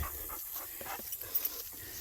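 A dog pants close by on a farm near an electric fence, giving a steady run of quick, breathy huffs over about two seconds, with a couple of slightly louder puffs toward the end and no talking.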